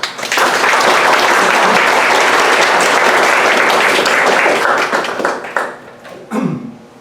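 An audience applauds to welcome a speaker at a UW Division of Continuing Studies talk on Madison in 1969, with loud, sustained clapping that fades out near the end as a few last claps trail off.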